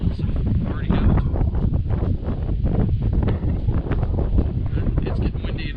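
Gusty wind blowing outdoors in the Maine woods in spring, buffeting the microphone with loud, continuous rumbling and rustling that swells and dips throughout.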